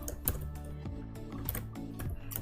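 Quick, steady keystrokes on a computer keyboard while Python code is typed, a run of close, light clicks over a soft background hum.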